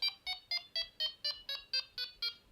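A Delkim fishing bite alarm in setup mode steps through its tones: about ten short, bright electronic beeps at a steady rate of roughly four per second, close and clear, with the pitch shifting slightly from beep to beep and no talking.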